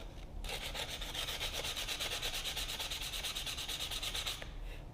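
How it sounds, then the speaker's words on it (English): A steady, rapid rasping of a sanding belt grinding against a hard auto glass edge, continuous for several seconds, close and fairly quiet, with no talking. "So you sand it down very well"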